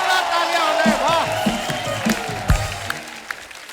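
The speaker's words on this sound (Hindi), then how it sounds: "जोरदार तालियां हो जाए।" Studio audience on a comedy talk show applauding and cheering a guest's entrance, sustained clapping with whoops, while a host's voice rises over it.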